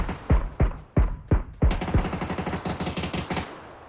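Several heavy single gunshots ring out in a video game, then a rapid burst of automatic fire follows, loud and close, with no talking.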